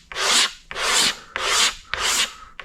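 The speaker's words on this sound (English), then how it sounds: "taking it at a right angle to the tank and just scraping" A razor blade scrapes paint off a 1983 Yamaha IT 175 dirt bike fuel tank in four steady, rasping strokes, each about half a second long with short pauses between.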